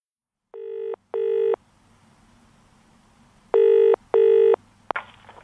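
A telephone rings in two paired bursts of electronic double tones with a pause between them. The ringing is loud and clear against near silence and ends with a short click as the call is answered.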